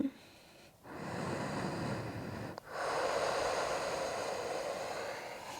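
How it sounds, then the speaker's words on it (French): Deep, steady breaths taken during a yoga practice, two long airy exhales or inhales separated by a short pause, close and fairly soft, with no talking. "Une dernière respiration."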